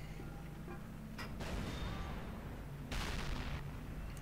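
A tank cannon shot in World of Tanks, a Löwe fighting on the Karelia map: two heavy booming blasts about two seconds apart over a steady low engine rumble, moderately distant and muffled.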